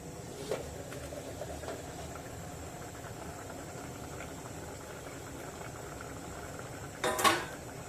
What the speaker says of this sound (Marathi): पाच मिनटं झालेली आहेत झाकण काढून बघूया